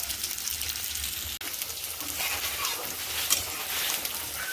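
Potato pieces frying in a wok over whole cumin seeds and green chilies, a steady close sizzle with a brief dip partway through, no voices.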